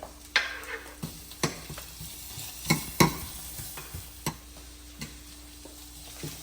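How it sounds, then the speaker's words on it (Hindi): Onions frying in a pan for street-style chow mein, a low sizzle broken by repeated sharp clacks of a spatula against the pan at an irregular stirring rhythm. "पेस्ट भूनने के बाद सबसे पहले मैं इसमें डालता हूँ अनियन"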